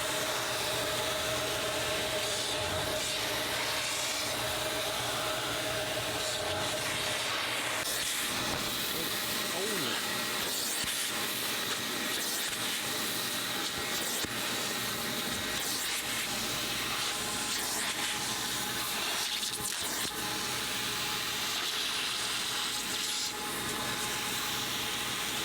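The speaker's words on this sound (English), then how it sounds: "And then we're gonna extract using our hot water extractor." Hot water extractor pulling moisture from a car's interior upholstery during professional detailing, a steady close hiss and suction roar running throughout, with a person talking over it at times.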